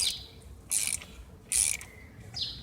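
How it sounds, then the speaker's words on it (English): The rear strut spring of a Hyundai XG 350 is loosened with a tool, producing three short, bright ratcheting bursts close by over a faint background hum. "Now we want to take loosen the springs up here."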